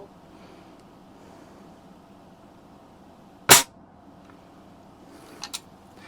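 A Daisy 120 pellet rifle fires a single sharp, loud shot at an outdoor Halloween witch target. Faint ambient noise surrounds the shot, and a couple of softer clicks or impacts follow about two seconds later.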